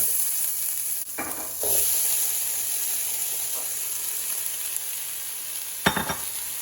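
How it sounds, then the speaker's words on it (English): Tomatoes and onions frying in butter in a pan, a steady close sizzle throughout with a few brief stirring clatters and scrapes. "now we're gonna add our tomatoes and our onions, and then add a little bit of salt and pepper with them"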